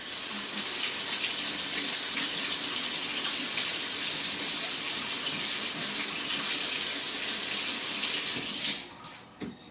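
Tap water gushes steadily into a sink while an apple is washed, a continuous loud splashing stream that cuts off abruptly near the end.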